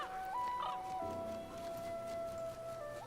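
In the video game Divinity: Original Sin II, a chicken clucks softly amid background game music and ambient tones, with a few faint, brief calls.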